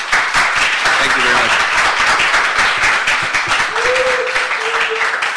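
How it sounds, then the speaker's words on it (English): Audience applause at a city Budget and Finance Committee meeting, a dense, sustained wash of clapping from a crowd in a hall, loud throughout, with a voice briefly speaking over it. "I need to ask you to please refrain from applauding"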